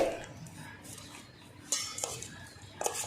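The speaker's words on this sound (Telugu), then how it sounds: "ముక్కలకు మొత్తం ఇట్లా నూనె పట్టేలాగా కలుపుకోవాలి." Mango pieces are stirred with oil in a bowl for sesame mango pickle, with a spoon scraping and clinking against the dish in brief, soft bursts.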